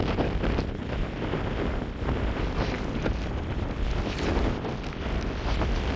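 Strong wind roars steadily at Ubehebe Crater in Death Valley, buffeting the microphone with loud, continuous gusty rumble throughout.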